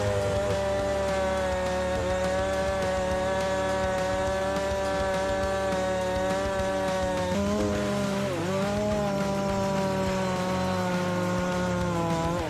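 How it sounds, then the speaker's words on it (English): A chainsaw runs steadily at high revs, cutting through a dense tree trunk during logging. The engine drone is loud and continuous, and its pitch dips briefly partway through as the chain bites deeper before recovering. "the chainsaw continues working without hesitation"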